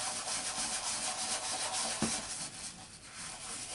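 Oil-absorbing material is rubbed over an acrylic pour painting canvas, a soft, steady scrubbing hiss in close, quiet strokes, with one brief tap near the middle.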